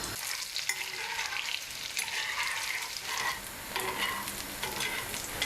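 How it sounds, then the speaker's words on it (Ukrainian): Potatoes fry in hot oil and butter in a pan, giving a continuous close sizzle broken by scraping stirs, with no talking. "Олія має бути добре розігрітою, щоб картопля одразу почала підсмажуватись"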